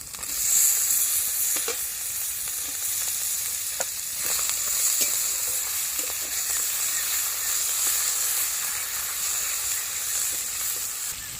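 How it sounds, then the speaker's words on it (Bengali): Chopped tomatoes and spices frying in a pan with turmeric, a continuous bright sizzle and hiss with occasional scrapes of stirring, close and steady throughout. "এবার কুচিয়ে রাখা টমেটো কুচিগুলো দিয়ে দিচ্ছি।"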